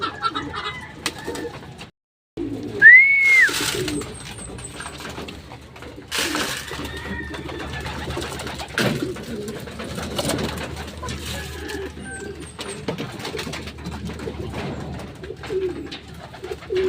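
Racing pigeons, including a grizzle pigeon, coo in soft repeated phrases close by, mixed with wing flaps, scuffling and an occasional sharp knock, all under a quiet outdoor background.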